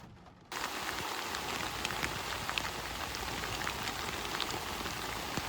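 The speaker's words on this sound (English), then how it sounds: "The rain's terrible, the ground's absolutely drenched." Heavy rain beats down outdoors at a carp fishery, starting abruptly and then holding a dense, steady hiss with scattered louder drops spattering nearby.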